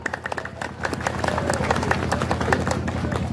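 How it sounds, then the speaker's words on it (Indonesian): An audience at a Maulid Nabi neighborhood gathering in Magetan claps in a dense, steady patter with rhythmic accents, fairly close, with a low hum beneath and murmuring voices in the crowd. "Ojo tepuk-tepuk dhisik."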